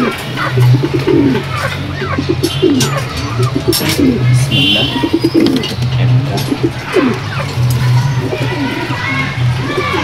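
Pigeons cooing close by in repeated soft, throaty rolling phrases, with occasional chirps and faint voices in the background.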